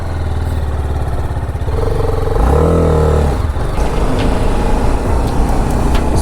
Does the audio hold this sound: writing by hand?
no